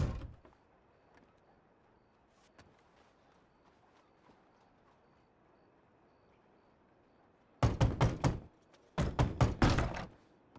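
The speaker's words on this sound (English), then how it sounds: "Who's knocking?" Knocking on a wooden door inside a Western-themed role-play video game: two quick bursts of three or four sharp raps, loud and close, after a long stretch of near silence with faint background movement.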